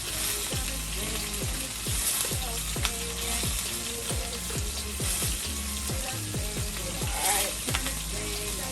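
Rapid, rhythmic ratcheting clicks from a pepper grinder crack black pepper over chicken, close and steady, with a faint sizzle-like hiss beneath.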